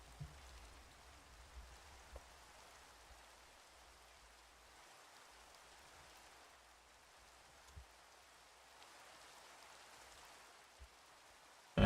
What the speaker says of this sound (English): And it's raining. Lovely.